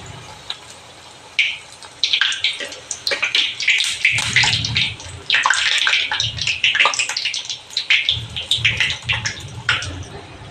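Pieces of mathri dough made from Sunfeast Marie Light biscuits fry in hot oil, giving a loud, continuous bubbling sizzle with crackling bursts as each piece is dropped in, with no talk.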